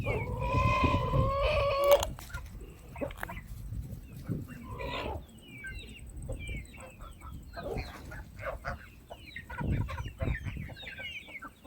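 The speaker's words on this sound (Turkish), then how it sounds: "Civcivleri dışarıdayken çekmek istedim böyle." Chicks cluck loudly and close at first, then high peeping chirps scatter intermittently over a quiet outdoor background.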